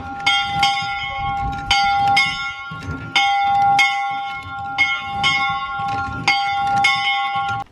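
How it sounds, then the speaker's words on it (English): An old schoolhouse bell in a museum in Colorado rings out loudly in a steady rhythm, about a dozen bright clanging strikes, each ringing on briefly before the next. "Let's see if the school bell also is in ringing mode."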